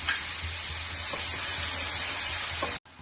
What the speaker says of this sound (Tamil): இப்போ நம்ம நறுக்கி வச்சிருந்த 4 சைஸ் பெரிய வெங்காயத்தை போட்டு வதக்கிக்கலாம்